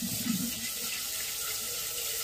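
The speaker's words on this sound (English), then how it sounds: "Get a little water going here." Tap water runs steadily into a pot on a home kitchen stove while quick grits are being started for breakfast, a continuous close hiss with no talking.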